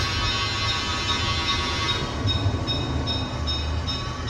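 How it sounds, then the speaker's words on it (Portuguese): A model train locomotive slowly pulls away from a stop on a hobby layout, a steady, even rolling rumble with faint metallic ticking, close and constant, with no talk. "A locomotiva nunca sai em velocidade alta, ela está arrancando, ela tem que vencer a inércia."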